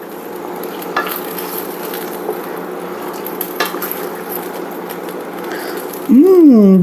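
Cooked sausage and beans sizzle softly in a pan while being stirred, with light scraping and clinks throughout, then a louder rising whine near the end.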